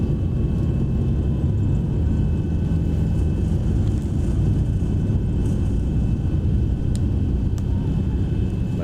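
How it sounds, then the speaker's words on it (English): A flight-simulator airliner in a VR game rolls out after landing, a steady loud low rumble of engines and runway noise with faint tonal whine and occasional clicks, continuous throughout. "the plane will start to decelerate here and come to a complete stop"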